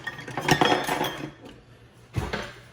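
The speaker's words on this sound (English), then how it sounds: "as the butter's melting, we're gonna stir in the brown sugar" Brown sugar being stirred into melted butter in a pan, with a spoon clinking and scraping against the metal in a couple of close bursts, no talk.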